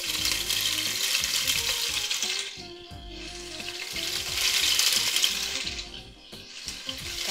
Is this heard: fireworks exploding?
no